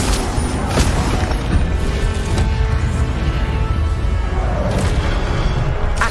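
Incendio fire spell cast in the Hogwarts Legacy video game: a loud, steady rumbling roar with several sharp bursts and whooshes spread through it, dense game sound with no voices.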